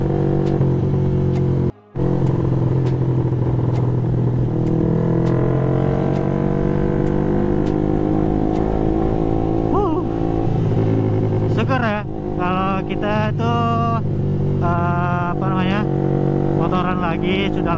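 A Yamaha motorcycle cruising on a road gives a steady, close engine drone with shifting harmonics as the revs rise and fall, broken by a brief dropout early on, with a voice occasionally heard over it.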